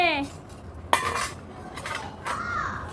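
Ceramic plates clink and knock together as they are handled, with a sharp clatter near the start and a second scrape later, all close up in a quiet room.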